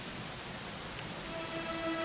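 Soft rain falls in the Dragon Quest XI video game, a faint, even patter and hiss with a quiet tone entering near the end.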